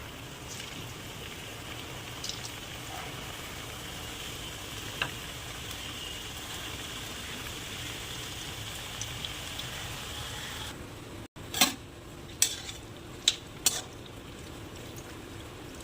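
Singaras fry in hot oil with a steady, soft crackling hiss, near and constant, and a few sharp clicks of a utensil near the end.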